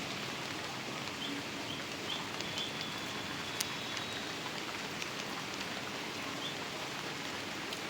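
Light rain falls steadily in a village, making a soft, even hiss of drops with a few faint bird chirps in the distance. No one speaks.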